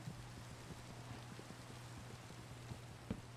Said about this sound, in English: Of course it's bloody raining.